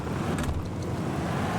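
Racing car engine from a mobile car racing game roars in a loud, steady drone, a dense continuous rumble heard alone for a moment.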